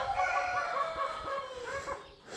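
Roosters and chickens in a coop, steady clucking and drawn-out fowl calls close by, with no speech.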